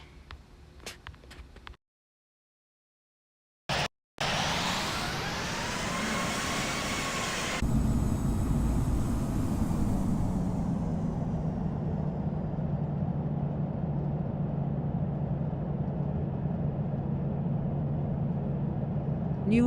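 Airliner engines spooling up for takeoff in the Infinite Flight simulator, departing Newark: a rising whine climbs after a brief silence, then a loud, steady broadband jet roar holds with low rumble.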